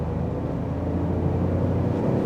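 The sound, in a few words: Tata Tiago car engine driving in second gear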